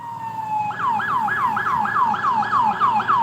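A police siren wails nearby as if pulling a driver over, one rising tone giving way to a rapid, evenly repeating yelp that cycles about three times a second, loud and alone.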